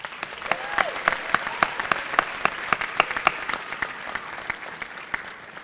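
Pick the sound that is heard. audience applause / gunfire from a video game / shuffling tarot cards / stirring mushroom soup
audience applause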